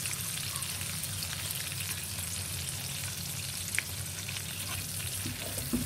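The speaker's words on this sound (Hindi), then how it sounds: "अब इसमें हम डाल देंगे प्याज कटी हुई, जितनी आपको पसंद हो उतनी डाल लें। प्याज को हम गोल्डन ब्राउन करेंगे।" Chopped onions fry in a pot for mix daal gosht with an even, dense sizzle and soft popping, heard up close without talking and with a small clink now and then.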